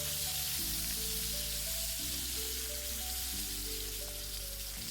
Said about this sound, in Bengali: তেলটা গরম হয়ে গেলেই তারপর আমি মাছটা লাল লাল করে ভেজে নেব।